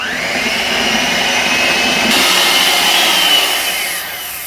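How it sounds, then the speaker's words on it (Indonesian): An electric mixer runs at top speed through a thick cake batter, giving a loud, steady whirring whine that shifts pitch partway through. "saya akan menggunakan mixer, menggunakan kecepatan tertinggi"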